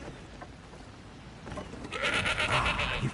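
Goat bleating in Elder Scrolls Online, a wavering nasal cry that rises over a low ambient game bed in the second half and holds to the end.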